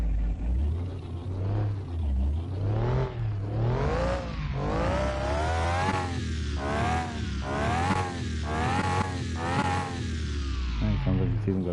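A turbocharged muscle car engine in the Car Mechanic Simulator video game revs repeatedly with a lumpy, loping idle, swelling and falling in several loud, close throttle blips over a steady rumble.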